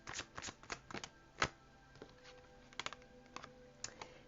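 Tarot cards being drawn and shuffled from a deck, a series of soft, quiet papery taps and flicks in an irregular rhythm, close and faint, with no voices.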